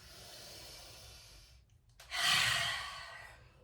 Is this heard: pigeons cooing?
no